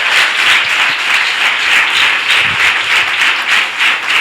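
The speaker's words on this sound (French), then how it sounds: "Applaudis pour le roi des rois." Church congregation clapping for the King of Kings, sustained loud applause from a crowd that pulses slightly in rhythm and continues throughout without talk.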